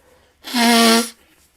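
A single loud, close sneeze bursts out in one sharp, sustained expulsion and breaks off cleanly, with quiet room tone before and after.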